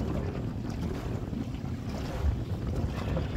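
Strong wind roars over a fishing boat while trolling for salmon in snowy weather on Finnish waters, a constant loud buffeting rush with waves and microphone wind noise and no talking.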